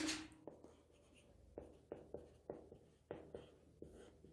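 Chalk tapping and scraping on a board as a definition is written in a chemistry lecture, with a series of short, crisp strokes in an irregular rhythm, fairly close, and no talking.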